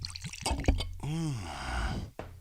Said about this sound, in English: You could hear that pour.